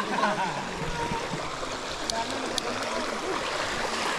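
Continuous rushing and trickling of a river stream along a hiking trail, steady and fairly close, with brief higher splashes partway through.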